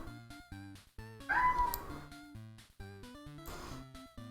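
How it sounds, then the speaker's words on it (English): A house cat meows loudly and up close in a couple of drawn-out calls, heard over a repeating music track with a steady beat. "Also, my cat wanna say hi."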